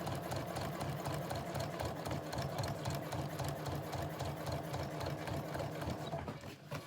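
A sewing machine runs steadily as it stitches a zip into a cushion, its rapid even mechanical chatter close and continuous before it slows to a stop at the end.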